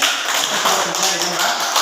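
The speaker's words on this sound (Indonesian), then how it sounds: "tepuk tangan untuk kelompok 1 ya" Classroom applause for a student group, a steady patter of clapping hands lasting a couple of seconds.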